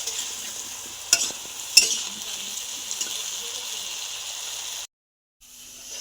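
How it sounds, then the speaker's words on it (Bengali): Potatoes and Malabar spinach frying in oil with salt and turmeric give a steady hiss, with a couple of sharp stir clatters, a brief silent gap near the end and the sizzle resuming. "এবার আমি পরিমাণ মতো লবণ আর হলুদ দিয়ে কিন্তু আলু আর পুঁই শাকটা ভেজে নেব"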